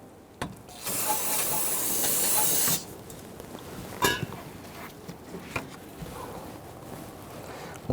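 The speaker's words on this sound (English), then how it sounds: "Go ahead and spray that down with some solvent to clean up any residual brake fluid." A sustained hissing spray of aerosol solvent, cleaning brake fluid off a 2011-2015 Kia Sorento brake master cylinder, lasts about two seconds, followed by a few faint clicks and bumps in a quiet room.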